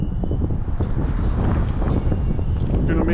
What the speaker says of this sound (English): It's 29 and windy.